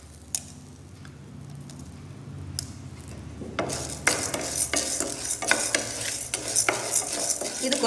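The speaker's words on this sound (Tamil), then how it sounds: "ப்ளைனாகவே நீங்கள் இந்த துவரம்பருப்பு வந்து சட்டியில் வந்து நல்லா சிவக்க வறுத்துக்கணும்." Toor dal dry-roasted in a pan, stirred with a utensil: faint scraping at first, then from midway a louder, busy run of rattling, scraping strokes with a light sizzle beneath, close and without talk.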